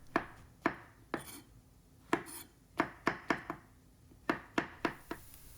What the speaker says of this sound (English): let's chop up some mushroom here